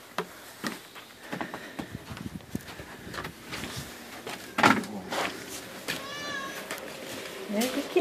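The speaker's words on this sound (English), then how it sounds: "There's the kitty." Young three-month-old cat named Sammy meowing outdoors, a few short mews scattered among rustling and footsteps, with people talking softly nearby.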